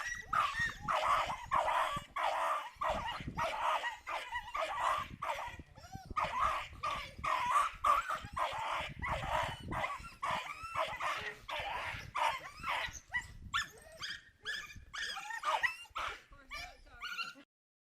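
Dogs bark and yip rapidly in a loud, continuous, agitated barrage, with whining edges, close to the listener for nearly the whole stretch, then thinning out briefly at the end.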